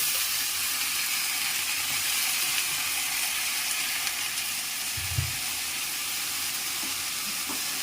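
Chopped plantain flower drops into spice masala cooking in a pan, a loud, constant close sizzle with a brief soft thump as it lands and faint stirring underneath.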